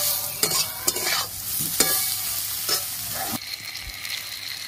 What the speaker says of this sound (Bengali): বেগুনগুলো লাল করে ভাজা হয়ে গেছে